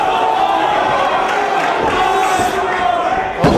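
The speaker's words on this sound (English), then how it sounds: "The crowd calling for another one." Wrestling crowd at a 2005 trios tournament show chanting and roaring loudly, a sustained mass of voices filling the arena with a sharp slam-like thud near the end.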